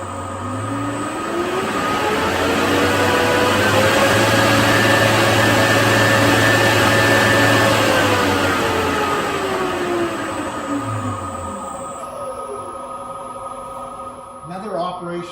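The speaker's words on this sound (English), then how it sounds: "Here we'll turn the machine on and we'll adjust the cutter head speed" UZ30 Express beveling machine runs with a steady motor drone whose pitch climbs, holds, then falls as the cutter head speed is changed, loud and continuous, ending in a few clunks.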